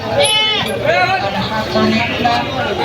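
Several goats bleat in quick succession over a busy crowd murmur at a livestock market, with people chattering close by throughout.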